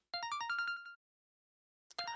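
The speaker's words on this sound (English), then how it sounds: "That is, until the phone rang." A mobile phone in a video game rings with a bright, repeating electronic melody of rapid tones for under a second, then silence, then the ringtone starting again, clear and close.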